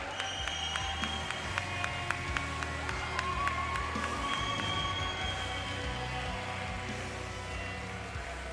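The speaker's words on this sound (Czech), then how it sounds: "A ještě jednou prosím obrovský potlesk pro oba borce" An audience applauds two young K-1 kickboxers after a bout in the under-30 kg class, with sustained clapping and crowd noise continuing throughout at a moderate, even level.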